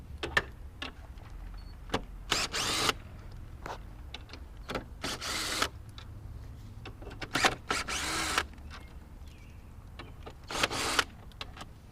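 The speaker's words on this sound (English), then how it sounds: "take a 13mm socket and remove these 3 bolts" A drill-driven 13mm socket removing three bolts on an F30 BMW 328i xDrive, in several short whirring bursts of a few seconds each, separated by quieter handling clicks and clanks, close by.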